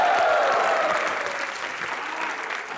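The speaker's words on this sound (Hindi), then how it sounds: "तो जोरदार ताली स्वागत कीजिए" Studio audience at a televised Hindi comedy show award segment applauds steadily, a dense wash of clapping that stays loud throughout and tapers slightly toward the end, with faint crowd noise underneath.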